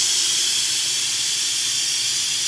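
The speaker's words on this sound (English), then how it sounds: "I'm gonna let the steam out." Steam hisses loudly and steadily from a slow cooker of turkey wings as the pressure is released, a continuous close airy rush without pause or talking.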